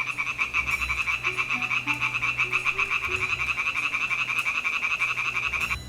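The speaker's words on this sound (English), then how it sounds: "From the slope, oriental tree frogs call to us." Oriental tree frogs call from a slope above a small roadside puddle in the Caucasus, a dense, steady chorus of rapid rhythmic croaks that carries loud and continuous from start to finish with no talk.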